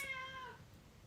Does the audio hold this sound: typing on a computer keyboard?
no